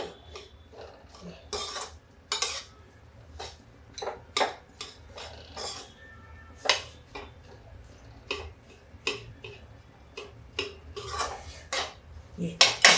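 A coarsely ground pistachio and almond mixture is roasted in a pan, with a spoon scraping and clinking against the metal in repeated irregular strokes at close range and no talking.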